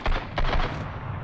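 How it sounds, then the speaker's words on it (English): Machine gun fire in the survival game Sunkenland, two loud close bursts of rapid shots with a booming low end, followed by a quieter rumbling tail. "Okay, they have a machine gun."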